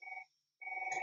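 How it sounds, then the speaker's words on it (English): A telephone rings in two electronic trilling bursts separated by a short silence, fairly loud and close, with no voices over it. "There is a telephone ringing."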